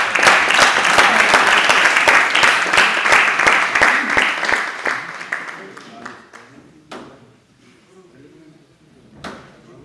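Hearty applause at a Hindi kavi sammelan poetry gathering, thick clapping for about five seconds that fades into scattered claps, a voice and a few stray knocks in a quieter room.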